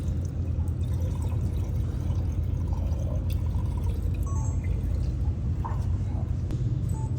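Water pours steadily into the tank of a 300W mold-repair laser welding machine, a continuous low splashing rush that stays close and even throughout.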